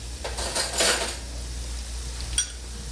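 A metal spoon clinks against pots and pans in a home kitchen while hamburger gravy of flour and grease is being made, a few light scattered taps, loudest near the start and again briefly later, with no talk.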